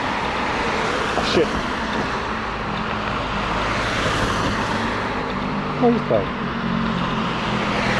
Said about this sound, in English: There's so much traffic, I can't hear anything.